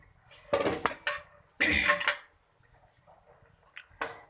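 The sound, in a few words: dishing out chicken shaljam from pot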